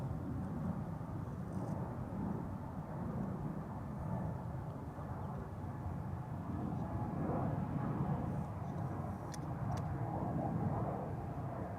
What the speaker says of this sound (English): on the threshold of the center runway now is TUI lined up going to Antalya